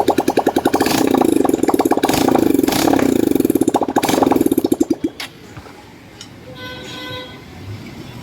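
A TVS Apache 200 motorcycle with a repaired silencer runs loudly with a rapid, pulsing exhaust beat, then cuts off abruptly, leaving quieter background noise with faint tones.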